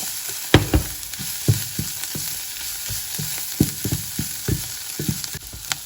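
Onion mixed with herbes de Provence stirred in a hot pan, soft frying sizzle under a series of close, distinct spoon scrapes and knocks at an uneven rhythm.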